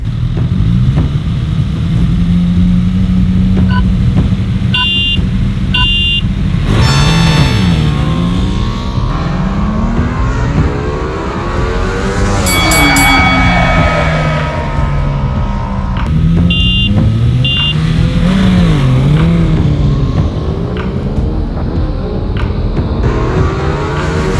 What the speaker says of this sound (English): Now we are going to have the classic drag race.